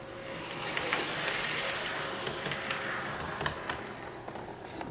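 A Hornby Class 153 model railway locomotive in Riva Trains livery runs along the track with a continuous whirring rumble and light rhythmic clicks over rail joints, close and steady.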